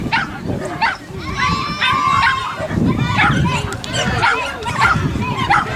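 A small dog barks and yips repeatedly at an agility jumping demonstration in Pontorson, sharp excited calls mixed with whimpers, heard under someone talking.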